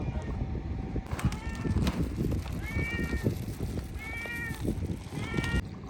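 A pet cat meows several times at moderate distance while its food is being served, short rising-falling cries spaced across a few seconds over faint background rustle.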